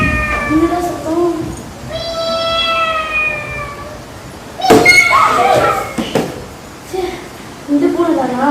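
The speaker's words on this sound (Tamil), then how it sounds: "இந்த பூனை தானா?" A cat meows several times in a school drama set on a rainy night: a drawn-out meow, a longer wailing one, and shorter meows later, close and clear over steady background noise.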